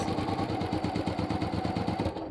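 Sewing machine running a quilt seam at a 1/4 inch seam allowance, a steady, close, even rhythmic whir that continues unbroken and cuts off just before the end, with no talking.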